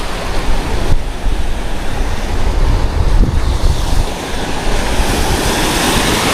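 Sea waves wash and churn continuously around a small boat while strong wind buffets the microphone, a loud, steady roar with no talking.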